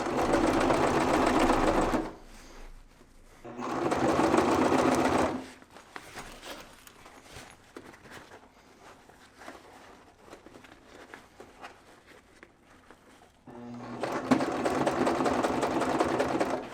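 A sewing machine stitches the front of a fabric bag with a 3/8 inch seam in three loud, close bursts of rapid whirring, with quieter handling sounds in the pauses between them.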